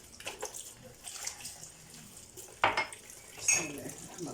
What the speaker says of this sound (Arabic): شغل الميه الدافيه عشان اي زفره او اي حاجه تنزل معايا